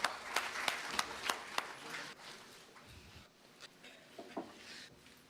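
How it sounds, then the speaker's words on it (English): Applause from a conference audience at an intellectual property event, fairly faint and thinning out, with scattered individual claps and a few soft knocks and shuffles in a quiet hall. "A huge round of applause."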